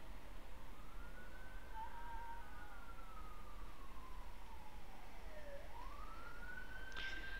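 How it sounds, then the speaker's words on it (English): Sirens from an ambulance and a fire truck in the video game Beyond Two Souls wail and sweep faintly in the distance over a steady background hiss. "Okay, ambulance,"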